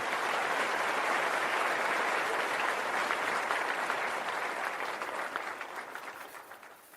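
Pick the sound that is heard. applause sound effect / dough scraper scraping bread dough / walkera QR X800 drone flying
applause sound effect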